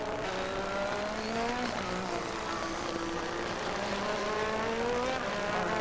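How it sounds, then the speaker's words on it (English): 1985 Formula One race cars, with Nelson Piquet overtaking Michele Alboreto, a steady high engine whine rising and falling in pitch as the cars pass at speed, distant and continuous. "Now here we have Nelson Piquet overtaking Michele Alboreto,"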